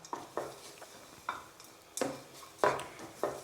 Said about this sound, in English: Now you can see I am just mixing these ingredients together.